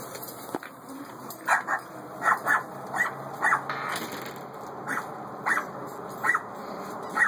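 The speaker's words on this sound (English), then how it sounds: "Now get her barking." A pet dog barks outdoors during backyard play, giving short repeated barks and yips spaced irregularly at moderate distance, with soft whimpers between and faint background noise throughout.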